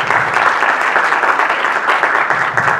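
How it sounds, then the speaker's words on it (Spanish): Loud, dense applause from an audience at a Chilean health-system conference, thanking the speakers with a sustained even roar of clapping that fills the whole stretch. "Un aplauso para la doctora Aldo Vera y para la doctora Paula María."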